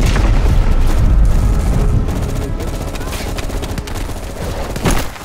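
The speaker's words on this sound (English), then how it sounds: "you woke up in the middle of a firefight" Gunfire in a Vietnam-era jungle firefight in the video game Call of Duty: Black Ops Cold War, dense continuous bursts of automatic weapons fire with heavy booms, loud and close, building to a sharp burst near the end.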